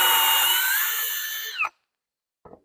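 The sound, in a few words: power drill drilling a hole in wood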